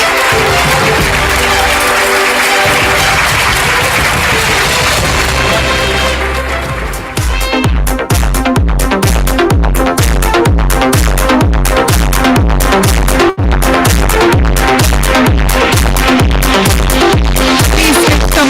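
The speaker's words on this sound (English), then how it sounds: "Please give Tamanna a big round of applause." Audience applause at an awards ceremony honouring influential women fills the first seven seconds as steady, dense clapping, then gives way to loud, rhythmic music with a pounding beat.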